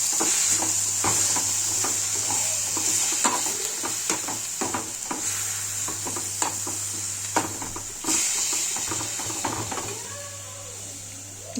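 Soaked moong dal being stirred into fenugreek greens in a pan, producing a continuous gentle sizzle with repeated spatula scrapes and clicks against the pan.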